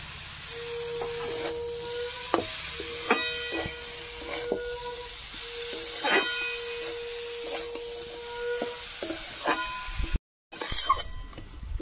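Sizzling hiss of frying spice paste as grated raw papaya and raw chickpeas go into the pan, with a steady sizzle, repeated clinks and scrapes of stirring, and a brief drop to silence near the end.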